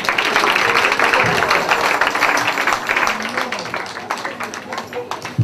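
Congregation clapping as an offering during a church service, a dense sustained patter of many hands that fades slightly toward the end, with voices mixed in underneath.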